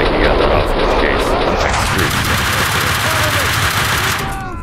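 Rapid, loud automatic gunfire in the video game Max Payne 2, a sustained volley of close shots that tapers off near the end while a voice talks over it.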